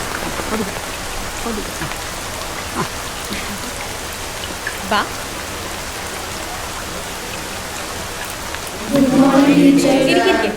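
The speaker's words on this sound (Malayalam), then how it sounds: "ഇങ്ങനെ മഴ നനയുന്നത്?" Steady rain patters throughout, a dense hiss of drops with a few louder splashes, swelling heavier and closer near the end.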